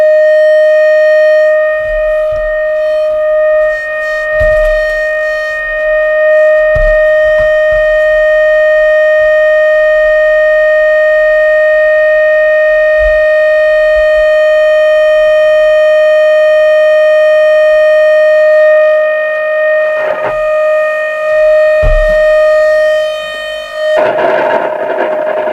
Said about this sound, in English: The intermittent noise is because my signal generator is not really making a very good connection.